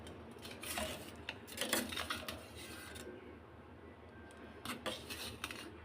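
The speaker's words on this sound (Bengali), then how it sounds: "তো আলু দিয়ে মশলাটা কষিয়ে নিচ্ছি বন্ধুরা, দেখো।" Spiced masala and potatoes being stirred and fried in a metal pan for a fish and potato curry, with repeated scraping and clinking of a spoon against the pan over a low sizzle, moderately close and without talk.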